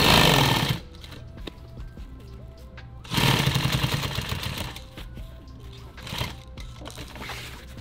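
A sewing machine stitches nylon tactical gear in two loud, fast mechanical bursts, one short at the start and a longer run a few seconds later, with quieter clicks and handling noises in between and no talking.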